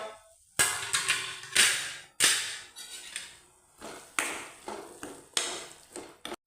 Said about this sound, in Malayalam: ബീട്രൂട്ട് ഒന്ന് തുറന്നിട്ട് ഒന്ന് ഇളക്കി കൊടുക്കുക